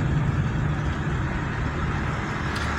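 Chevrolet Corsa Wind 1.0 engine fitted with a sports air filter, running with a steady low rumble that stays constant and moderately loud throughout, with no talking.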